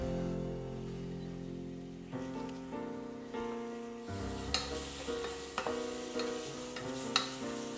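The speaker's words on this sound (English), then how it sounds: "Bacon releases a lot of its own fat, so you just like cook it in there so it won't stick to the bottom." Bacon sizzles in butter in a hot pan, a steady crackling fry with occasional sharper pops and stirring scrapes, close and fairly loud, with no voices.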